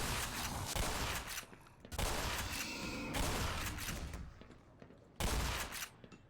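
A shotgun fires in the video game Half-Life Black Mesa, with several loud, sharp blasts spaced a few seconds apart, each followed by a short echoing decay amid other game noise.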